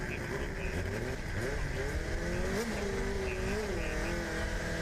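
Formula SAE combustion race car rolling up to the start at an autocross event, its engine droning and revving continuously at mid-distance, with an announcer talking over it throughout.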